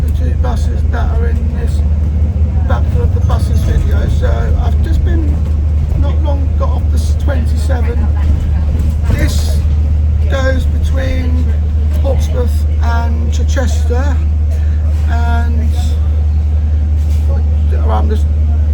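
Ride at the back of the 700 bus between Havant and Emsworth, a constant deep engine drone and road rumble with occasional rattles and a hiss like air brakes, while voices talk over it throughout.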